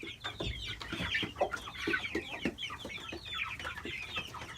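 Several chickens clucking and chattering close by, a busy overlapping flock murmur with short peeping calls throughout.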